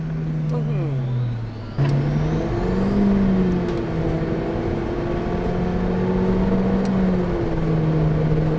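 Modified Honda Civic FK engine revs and drones loudly from inside the car, rising and falling through gear changes with a sharp shift near the start, while people talk over it.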